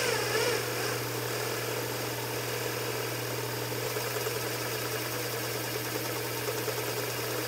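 A servo motor running steadily at 600 RPM, giving a constant, even mechanical hum with a low steady tone and faint whirring overtones, unchanging throughout.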